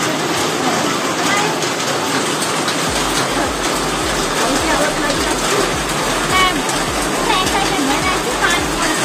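A downpour of heavy rain in Siliguri roars as a constant, close wash of noise, with low thumping pulses and some talk mixed beneath the rush of water.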